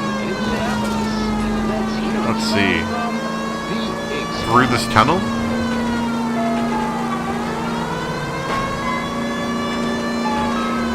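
A police car siren in the video game L.A. Noire wails, rising and falling in long sweeping cycles, steady and fairly close, with a low engine drone underneath and a voice talking briefly over it.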